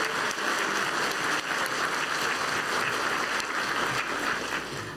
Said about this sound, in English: Please join me in giving these young performers another round of applause.